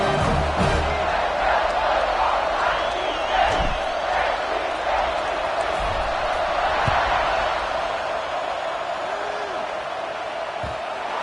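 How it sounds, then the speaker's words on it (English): Football stadium crowd at an NCAA game, a loud continuous roar and buzz of many voices filling the space, with occasional shouts and whoops rising above the steady din. "this crowd is buzzing after that last score"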